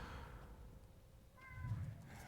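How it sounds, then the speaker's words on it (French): A cat gives one short, faint meow partway through, against a quiet low background hum. "Ah non, le chat, tais-toi."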